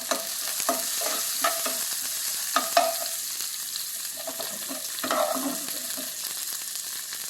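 Onions and curry leaves sauté in hot oil for a cauliflower and pea stir-fry, giving a steady close sizzle and crackle broken by repeated scraping stirs of a spatula against the pan.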